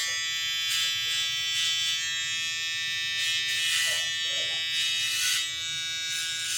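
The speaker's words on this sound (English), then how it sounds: "Watch how it just busts through this hair." A Stylecraft Instinct hair clipper buzzes steadily close by as it cuts through hair, with a constant motor hum and brief swells of brighter rasping as the blades bite, and no one talking.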